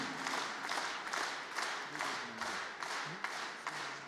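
Audience applause for the Romanian folk ensemble Plăieșii at a 25th-anniversary concert, a broad hall full of clapping rising into rhythmic, pulsing waves of unison claps, with faint voices drifting underneath.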